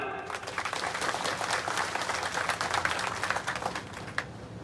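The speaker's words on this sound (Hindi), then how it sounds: "अरे ये थोड़ी जोबट की ताली, ऊपर से वहां तक ताली बजा।" A large crowd claps steadily in a dense, continuous wash of applause that holds at an even level throughout.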